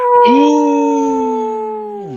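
Several human voices imitate wolves with one long, sustained howl. The layered tones rise at the start, hold steady and glide downward together as they fade over about two seconds.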